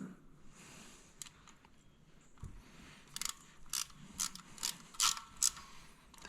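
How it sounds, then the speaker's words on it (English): A 10mm ratchet wrench tightening bolts during an oil change on a 2023 520 Rubicon Deluxe, its pawl clicking in short bursts that grow louder and faster toward the end over a quiet background. "a 10mm ratchet wrench works best for this job"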